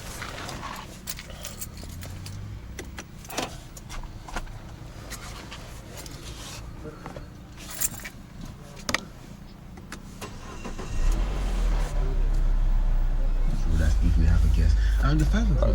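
Peugeot 508 with a THP (EP6) petrol engine: clicks and shuffling, then the engine cranks and catches around eleven seconds and settles into a low, steady idle close by.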